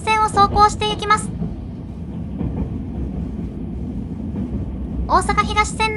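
Three-car limited express Mahoroba creeping slowly along the Osaka Higashi Line, a low steady interior rumble with faint wheel clatter, framed by speech at the start and end.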